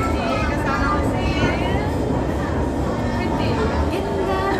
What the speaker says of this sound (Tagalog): nandito kami ngayon sa MRT